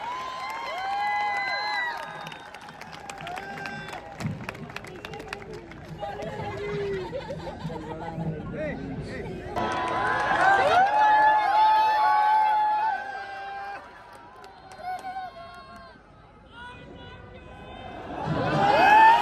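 An outdoor audience at a kavi sammelan during Bhilwara Mahotsav cheers and claps as Shailesh Lodha is introduced, with crowd noise swelling in waves and rising loudly toward the end, mixed with chatter and an amplified voice.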